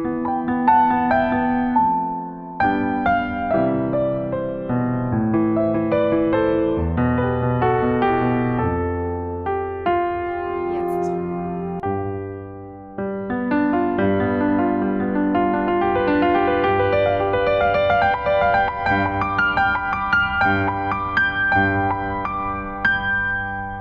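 Solo piano plays a melody, a steady, continuous stream of sustained notes and arpeggiated chords heard alone and close, with a brief dip in the flow near the middle.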